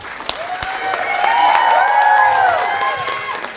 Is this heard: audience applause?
yes